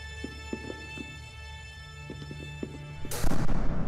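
A heavy door slams suddenly in the horror video game Past Cure, a loud booming bang that cuts in near the end after a stretch of faint knocks and thuds over low droning game ambience.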